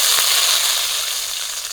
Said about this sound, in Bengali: তেল গরম হয়ে গেছে তেজপাতা দিয়ে দিচ্ছি